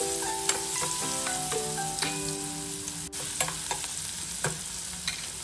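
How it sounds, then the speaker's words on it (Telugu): Thinly sliced onions frying in oil with fenugreek seeds for an egg curry, a steady close sizzle broken by occasional stirring clicks, with faint music tones behind and no talk. "మెంతులు కొంచెం ఫ్రై అయిన తర్వాత సన్నగా కట్ చేసి పెట్టుకున్న ఉల్లిపాయలు 1 కప్పు వేసుకోవాలి"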